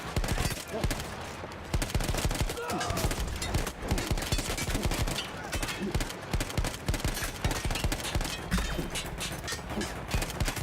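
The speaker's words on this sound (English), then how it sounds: "that's a heavy machine gunner hitting you at point blank." A heavy machine gun in Battlefield 1 fires at point-blank range, loud rapid bursts of gunfire hammering almost without pause, with brief breaks between volleys.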